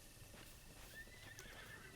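Horses neigh and whinny in a video game over a steady, dense background of noise, with hoof clatter mixed in; the calls carry loudly throughout.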